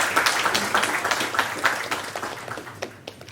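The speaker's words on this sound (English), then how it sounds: "I would request a great, I would say round of applause for our panelists today." Audience applause for the panelists at a community meetup on batteries and battery swapping, a dense wash of many hands clapping that stays steady, then thins and fades near the end.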